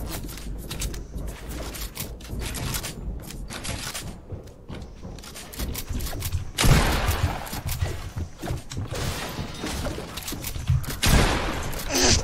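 Submachine gun fire rattles in rapid bursts during a frantic video game match, with sharp crackling shots and scattered mechanical clicks, growing louder and denser partway through.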